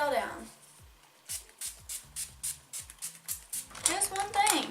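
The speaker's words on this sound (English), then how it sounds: "Spray it all down." Setting spray misted over a freshly made-up face after eyeshadow application, heard as a run of about a dozen short, evenly spaced hissing spritzes, close and fairly soft, with a brief rustle before and after.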